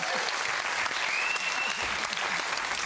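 A television studio audience applauds at a Christmas special of a music quiz show, a continuous wash of clapping with some whoops, steady and fairly loud throughout.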